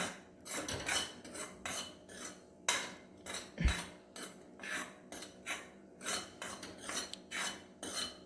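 Gram flour being stirred and roasted in a pan for stuffed green chillies, with a spoon scraping the pan in a steady back-and-forth rhythm of repeated strokes, close and fairly quiet, with no talking.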